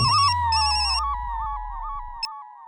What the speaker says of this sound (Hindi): ये थापा फोन क्यों नहीं उठा रहा?